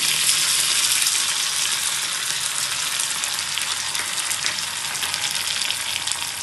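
Garlic and coriander frying in a pan for chutney over a low flame give off a loud, steady, close sizzle with a dense crackling hiss and no pauses.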